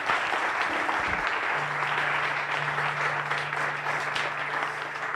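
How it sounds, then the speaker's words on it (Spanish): A church congregation applauds for several seconds, a dense, steady clapping spread across the room at moderate volume with no voices on top. "Le podemos dar un fuerte aplauso a nuestro Dios."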